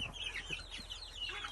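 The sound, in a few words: chickens and roosters clucking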